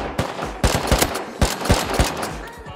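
Loud, close gunfire in the survival game Rust, about a dozen sharp shots in quick irregular bursts, with no talking.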